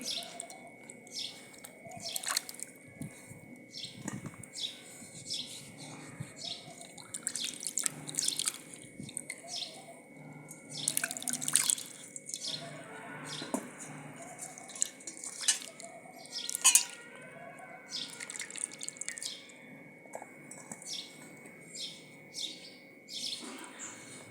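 Vegetables being washed by hand under a running kitchen tap while making veg noodles, with dripping and splashing water in irregular spurts, fairly close, and birds chirping in the background.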